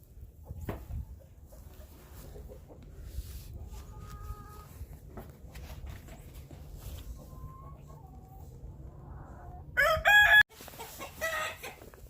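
A rooster crows on a Texas farm near the pig pens, one loud crow standing out clearly near the end over a low, quiet farmyard background.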